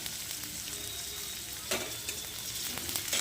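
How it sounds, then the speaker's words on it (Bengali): Cabbage and mixed vegetables for fried rice stir-fry in a hot pan, a loud continuous sizzle broken by a few sharp scraping stirs, close up with no talking. "দিয়ে দিচ্ছি বাঁধাকপি, সবজিগুলো একটু নাড়াচাড়া করে নিই।"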